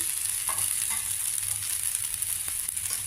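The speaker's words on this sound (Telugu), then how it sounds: "బాగా కాలింది దోశ ఇప్పుడు రెండో వైపు కూడా కలుపు కాల్చుకోవాలి మనం తిప్పుకుని" Millet dosa sizzling on a hot pan after being flipped, a steady close frying hiss with a few light scraping touches.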